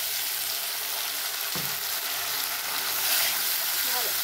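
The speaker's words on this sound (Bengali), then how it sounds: "পেঁয়াজ লাল করে ভেজে নেব।" Onions and spice paste frying in a pan for a chana and chicken keema dish, a steady sizzle with a brief stir or clatter partway through and faint scraping near the end.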